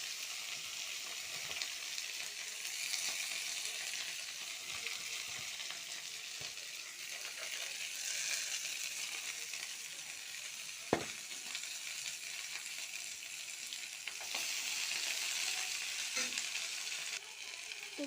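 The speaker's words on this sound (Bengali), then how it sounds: "তেল গরম হয়ে গেছে, তারপরে এই যে শাকটা এইভাবে ধুয়ে এইভাবে দিতে হবে।" Washed leafy greens frying in hot oil with garlic give a steady, hissing sizzle that continues throughout, with one sharp click partway through and no voices.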